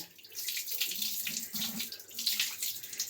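Tap water runs steadily as puja items are washed in a sink, a continuous hissing splash that swells and dips slightly throughout, close by with no speech.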